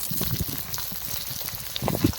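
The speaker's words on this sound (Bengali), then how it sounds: "আলুগুলো আগে দিয়ে দিচ্ছি কারণ আলুগুলোকে ভালো করে ভেজে নিতে হবে" Potatoes frying in a pan with onion and green chilli, a steady low crackle of hot oil with soft stirring bursts, louder toward the end, no voices.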